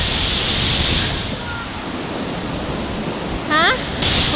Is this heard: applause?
no